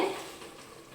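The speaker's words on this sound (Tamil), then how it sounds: "இப்போ நம்ம ஃபஸ்ட்டு தேங்காய் பால் ஊற்றிக்கலாம்" Coconut milk going into a pot of chicken biryani, giving a short stirring and sizzling wash with a brief liquid splash at the start, fading to a soft steady simmer, close and alone.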